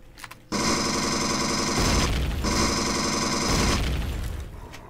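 Sustained automatic turret fire in the space survival game Empyrion, a loud near continuous roar in two long bursts separated by a brief gap, fading at the end with no voices.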